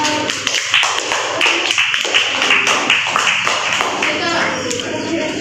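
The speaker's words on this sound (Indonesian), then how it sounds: "Beri aplaus kepada" Classroom students applaud together, a burst of many hands clapping in a busy, dense patter that runs steadily throughout with voices mixed in.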